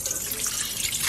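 Bean sprouts freshly lifted from boiling water are dropped into a bowl of cold water, giving a steady close rush of splashing, running water for about a second with no talking.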